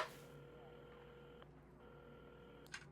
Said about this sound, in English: at the counter, Carmen had started dialing the phone